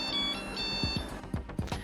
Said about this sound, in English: once it gets heated up, it'll beep.